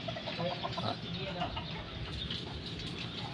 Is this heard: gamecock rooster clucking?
yes